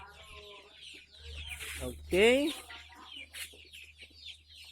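Backyard chickens cluck repeatedly in a small home coop, with a louder rooster-like squawk partway through, close and clear under light talk.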